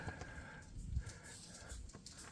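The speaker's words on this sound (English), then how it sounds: "And there's my dog" A dog pants quietly in a garage, soft rapid breaths close by with low shuffling noises, no talking over it.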